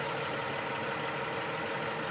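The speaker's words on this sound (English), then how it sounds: "Guy next to me is idling his truck" A truck idles close by, a steady, continuous engine rumble with even loudness and no voices.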